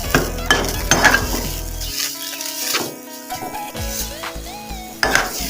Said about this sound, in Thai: คั่วไปเรื่อยๆ จนหมูจะสุกนะครับผม